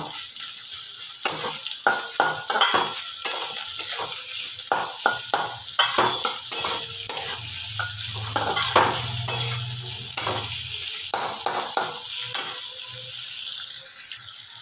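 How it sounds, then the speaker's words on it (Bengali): Onions sizzle steadily in a pan while a utensil scrapes and stirs in repeated strokes, close by, with a low hum partway through. "এবার এটাকে একটু ভাজা ভাজা করব।"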